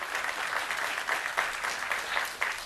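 A studio audience at a televised high school quiz show applauds in a dense, steady burst of clapping that holds at an even level throughout.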